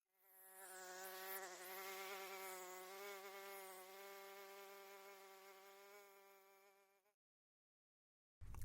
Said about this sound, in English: This is a small population of mosquitoes living near a water body.